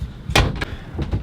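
A cabin door on a sailboat swings back and bumps shut: a short, sharp wooden knock followed by a softer second tap, then two faint thuds, close by.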